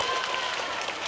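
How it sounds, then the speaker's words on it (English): Brief, steady round of clapping from people nearby, giving a small boy a clap on a fishing outing, dense and even with no pause. "Give him a clap."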